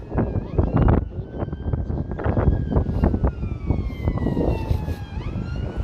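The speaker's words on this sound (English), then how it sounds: "Oh, ambulance." An ambulance siren wails in the distance on a street in Helensburgh, its tone sliding and falling as it passes, partly masked by nearby rumbling traffic and handling noise.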